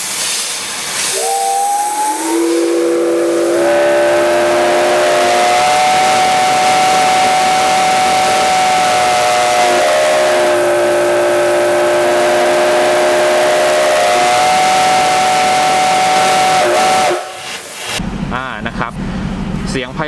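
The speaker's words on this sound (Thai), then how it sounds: "อันนี้คือวีดของรถจับไอ้น้ำ C56 หมายเลข 713 และ 715 นะครับ" Whistle of a Japanese C56 steam locomotive, Nos. 713 and 715, a loud sustained chime with several steady pitched tones and hissing steam, lasting over fifteen seconds before cutting off abruptly, with a voice over it near the end.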